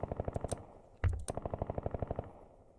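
A squad opens fire in the video game Mobius Front 1983: rapid, evenly spaced bursts of automatic gunfire, briefly broken by a single heavier blast, then the steady rattling resumes, all fairly quiet and with no talk.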